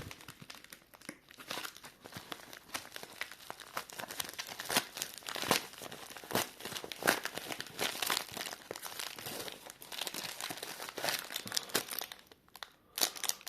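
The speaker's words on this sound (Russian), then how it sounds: "пришла еще тут одна посылочка. Запечатано отлично. Сейчас все откроем." A sealed parcel being opened, with continuous crinkling and rustling of plastic wrapping and some tearing, close but fairly quiet, and no talking.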